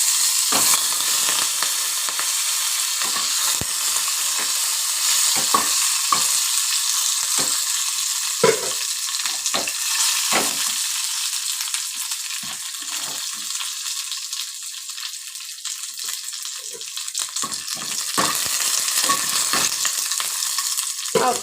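Byadgi chillies, garlic and curry leaves frying in a pan with a steady, loud sizzling hiss and occasional crackles and stirring scrapes throughout, close up with no talking.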